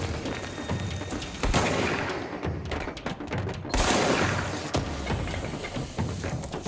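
Shotgun blasts from the video game Control boom out in heavy bursts, several loud broadband thuds spread across the clip over continuous game noise, with no talking.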